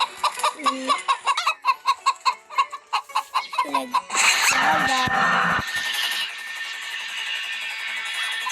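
Cartoonish chicken clucks from a Roblox game, a rapid series of short squawks that gives way to a busier burst of game noise and chatter-like sounds, with a voice briefly present.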